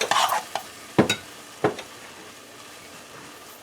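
Evaporated milk is stirred into a sirnie mixture in a pot, giving a few sharp scraping strokes and clinks, then a quiet low hiss between them.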